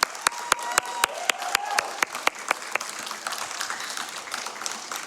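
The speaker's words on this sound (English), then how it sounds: "Let's give him one more round of applause" Scattered sharp claps ring out over a steady crowd wash at a Summer Games Done Quick 2022 speedrun event, applause that stays moderate and fairly even throughout.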